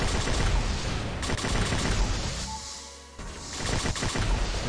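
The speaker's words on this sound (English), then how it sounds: "they're fully like burst rocket weapons. They fire in like groups of what, five?" Burst-firing rocket launchers in a shooter game, a dense rapid stream of loud explosive shots that pauses briefly before resuming, close and continuous with no talk.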